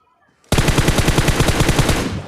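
Sustained automatic fire from an M249 light machine gun in PUBG Mobile, a rapid, even stream of loud close shots starting abruptly after a brief quiet lead-in and running steadily to the end.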